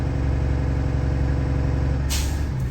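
A bus air brake system idles with a steady engine drone, then gives a brief, sharp hiss of air at governor cut-out near the end, heard close.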